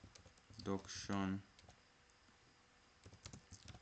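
Brief speech-like voicing comes first, followed after a pause by a short run of light, soft clicks from typing on a computer keyboard while entering a title in PowerPoint.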